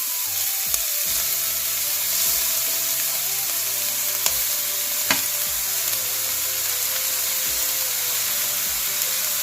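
Grated carrots frying in ghee in a pan for gajar halwa, a loud continuous sizzle broken by occasional clinks and scrapes of a stirring spoon, with no speech.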